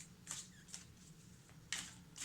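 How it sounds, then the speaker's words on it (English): Tarot cards shuffled by hand during a quiet card reading, giving three or four soft riffling bursts with a papery rustle in between. No one speaks. "I just like to shuffle and let the cards fall"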